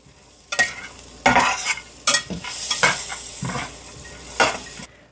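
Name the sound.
stirring almonds toasting in a pan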